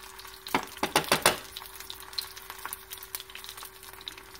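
A salmon fillet pan-sears in a hot skillet, giving a close crackling sizzle. A burst of sharp pops comes near the start and then settles into a softer, steady frying hiss.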